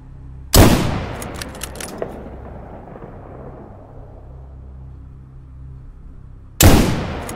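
Gunfire in the video game STALKER GAMMA: two loud, sharp single shots about six seconds apart, each with a long rumbling decay, and quiet ambience between them.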